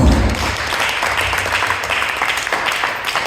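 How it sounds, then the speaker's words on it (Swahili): A church congregation applauding together during a sermon, a dense, steady wash of clapping held at an even level throughout. "Pigie Bwana Yesu makofi."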